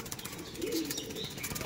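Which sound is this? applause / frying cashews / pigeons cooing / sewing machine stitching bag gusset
pigeons cooing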